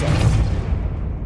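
A Depulso spell blast in Hogwarts Legacy lands as a single deep, loud boom whose low rumble fades out over about a second.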